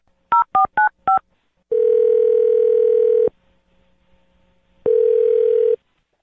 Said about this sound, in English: I think it is the perfect time to dial the phone number